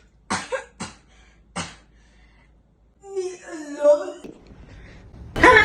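A person coughs in three sharp bursts close to the mic, followed by moaning or whimpering vocal sounds and then a loud, noisy rustle at the end.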